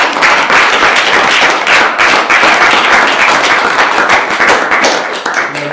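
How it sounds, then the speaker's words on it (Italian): Loud, close applause from participants at the end of a professional Feng Shui architecture course introduction, with sharp individual claps in a dense, steady wash and no one talking. "ci facciamo un grande applauso a tutti quanti"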